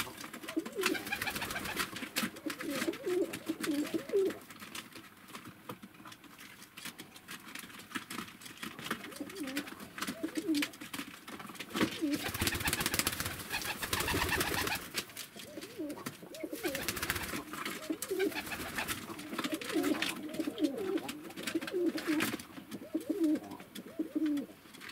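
Pigeons coo steadily in a low, throaty rhythm, several birds close by with overlapping calls and some rustling and shuffling, continuing without pause and without talk.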